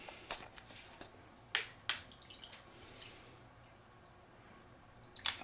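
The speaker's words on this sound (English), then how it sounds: "We're going to pour in this bowl some water." Water is poured into a bowl as part of a quiet ritual, heard as faint scattered drips and small splashes with short pauses between them.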